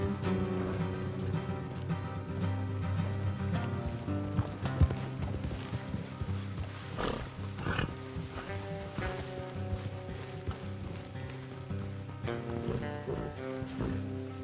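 Steady clip-clop of horses' hooves walking at an even pace in a video game, layered over a continuous musical score.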